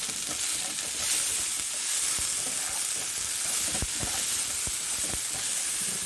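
Cauliflower sizzles steadily as it caramelizes in a hot pan, a continuous bright hiss broken by a few sharp pops and the occasional stir, with no one talking.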